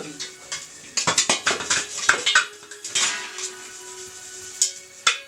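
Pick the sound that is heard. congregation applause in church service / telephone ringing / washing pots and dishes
washing pots and dishes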